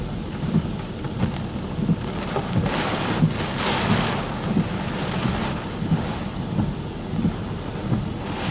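Hurricane Idalia batters the Florida coast with a strong, sustained wind gust roaring across the microphone, mixed with heavy rain and buffeting that swells and pulses throughout.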